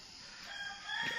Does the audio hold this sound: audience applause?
no